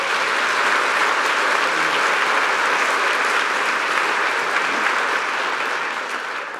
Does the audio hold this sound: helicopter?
no